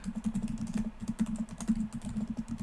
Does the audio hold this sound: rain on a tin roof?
no